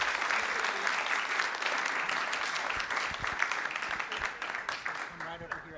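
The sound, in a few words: applause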